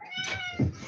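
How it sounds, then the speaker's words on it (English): A house cat gives a single short meow, close and clear, with a slight rising then falling tone and a soft thump near the end. "Let me get this cat in here."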